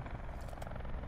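A helicopter in the Call of Duty Blackout battle royale game, a steady droning rotor thrum with faint rhythmic chopping, continuous and moderately distant.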